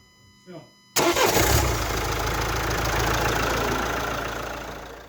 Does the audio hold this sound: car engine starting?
yes